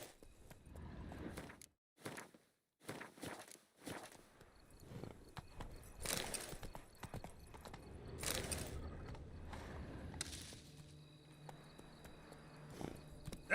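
Hooves of Geralt's horse Roach trotting in The Witcher 3, an irregular run of clip-clop footfalls with gaps and bursts, fairly close amid game ambience and effects.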